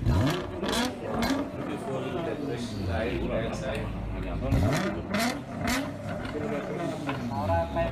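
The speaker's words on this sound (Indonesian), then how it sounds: "kita coba dengar ya bagaimana sih suara knalpotnya" A bus engine fitted with a racing exhaust revs repeatedly, its deep exhaust roaring up and down in pitch several times, loud and close, with short bursts of blare between.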